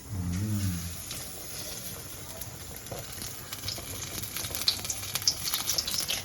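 Beguni, eggplant fritters, fry in hot oil with a soft, steady sizzle and crackle, close but fairly quiet, with occasional sharper pops and stirring clinks.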